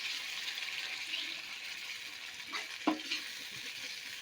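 A spice paste of masala, chopped tomato and a splash of water frying in a pan over low gas for a pabda fish curry with mustard and poppy seed. A steady close sizzle runs throughout, with a couple of brief stirring scrapes near the end.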